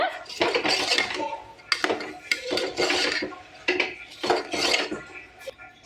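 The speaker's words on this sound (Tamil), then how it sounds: "ஸோ அரிசி சேர்த்துட்டு கலந்து விட்டுருங்க." Rice being stirred into tomato masala in a metal pot, with repeated scraping and clinking of a spoon against the pot in irregular bursts, close and fairly loud.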